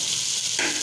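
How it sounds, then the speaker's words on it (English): Fried potatoes go into a pan of sautéed bottle gourd, giving a brief soft sizzle with a quick rustling stir near the end. "now I'm gonna add the potatoes"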